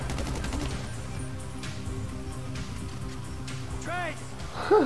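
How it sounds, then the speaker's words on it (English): Gunfire from the video game GTA 5 crackles in rapid bursts beneath loud game chatter and shouting, fairly constant and mid-distance, with a whistling electronic sweep near the end. "We're receiving fire!"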